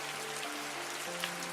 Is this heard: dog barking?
no